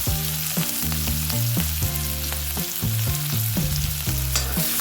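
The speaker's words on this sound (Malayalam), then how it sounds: "കൂടെ തന്നെ ഞാൻ ആ കറിവേപ്പില കൂടി എടുത്ത് ഇടുന്നുണ്ട് എന്നിട്ട് നന്നായിട്ടൊന്ന് ഇളക്കി കൊടുക്കുക" Curry leaves sizzle and crackle in a hot pan while a spoon stirs briskly, producing rhythmic repeated scraping knocks over a loud, dense frying hiss.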